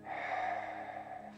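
A single long exhale during a guided yoga breathwork session, a soft breathy rush of air that starts quickly and holds steady for over a second before tapering, close to the mic with no talking.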